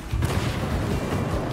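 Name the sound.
explosion in the video game Party Animals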